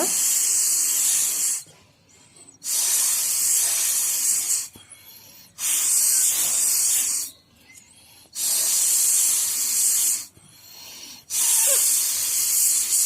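A blow pen sprays paint onto a drawing in steady hissing bursts, each lasting a second or two, separated by short quiet pauses, close and loud.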